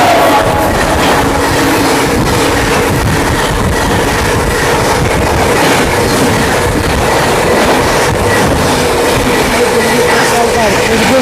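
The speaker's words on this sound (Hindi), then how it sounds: "डिब्रूगढ़ की ओर जाने वाली डिब्रूगढ़ राजधानी निकलती हुई" The Dibrugarh Rajdhani express train passes close by, with a loud, continuous roar of rolling wagons and steady rhythmic wheel clatter throughout, and faint voices mixed in.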